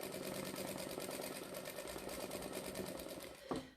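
A sewing machine stitches free motion quilting around teddy shapes with a fast, even mechanical chatter that runs continuously, then ends in a brief clunk as the needle stops.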